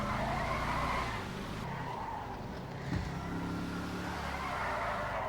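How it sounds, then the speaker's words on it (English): A car spins out in GTA 5, with tire squeal and skidding over a running engine note, dipping briefly before a short revving surge, loud and close with no voices. "Oh shoot, and I've spun it, that's not gone well."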